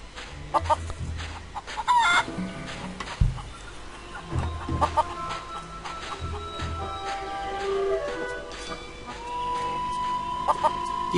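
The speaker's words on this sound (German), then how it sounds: "Und hier tauchen immer mehr Hühner auf." Chickens cluck and a rooster crows in the video game Monkey Island 3 (The Curse of Monkey Island), with several birds calling in scattered bursts over a steady ambient background.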